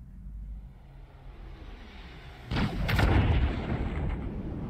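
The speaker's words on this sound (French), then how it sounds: "Feu à volonté." Heavy blaster fire in the LEGO Star Wars Skywalker Saga video game, a low rumbling background that breaks into a loud burst of booming shots, then a sustained roaring barrage.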